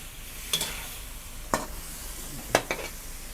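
Spicy king mackerel stir-fried dry in a pan with holy basil, giving three sharp clacks of a spatula against the pan about a second apart over a soft, steady sizzle, with no voices.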